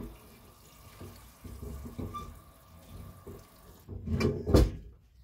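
Water runs from a tap during washing up in a rural home kitchen, a faint steady trickle with soft clatter, then a louder splash and knock near the end.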